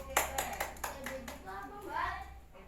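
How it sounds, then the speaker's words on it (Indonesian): A group claps in quick, fairly even rhythm for about a second, then voices start talking as the clapping stops. "Tepuk tangan untuk kita semua."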